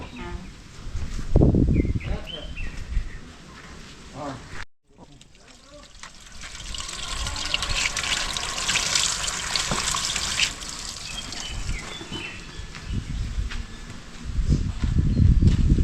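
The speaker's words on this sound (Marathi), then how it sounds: "आता पाणी उडणार आहे." Water gushes from a borewell pipe during flushing, a loud, broad rushing roar that surges in after a brief break and holds steady for about ten seconds, with voices heard before and after it.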